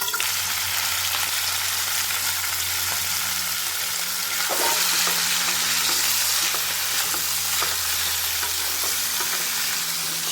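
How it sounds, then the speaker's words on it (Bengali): Mixed vegetables hitting hot mustard oil in a kadai give a loud, steady sizzle and crackle that runs throughout, with occasional stirring scrapes and no voices. "কড়াইয়ে আর একটু সরষের তেল দিয়েছি, আর তেলটা গরম হওয়ার পরে আমি এখন সবজিগুলোকে ছেড়ে দেব"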